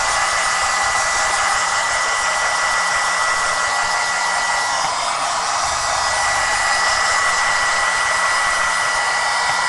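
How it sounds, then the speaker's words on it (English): A heat gun blasts steadily over a drying craft project on an altered frame, a loud, unbroken hiss and rush of air that holds for nearly ten seconds with no voices. "I might just hit it with the heat gun"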